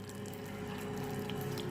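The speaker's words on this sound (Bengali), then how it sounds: "এখন আমি ঠান্ডা পানি দিয়ে দিব।" Cold water poured over milk cream (malai) that has been hand-mashed for making ghee, a steady, even rush of liquid lasting the whole moment with no talking.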